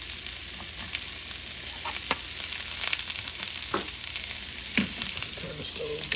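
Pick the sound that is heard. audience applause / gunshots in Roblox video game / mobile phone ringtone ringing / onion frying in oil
onion frying in oil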